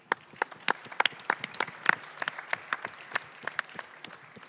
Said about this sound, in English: I think we all deserve a round of applause for that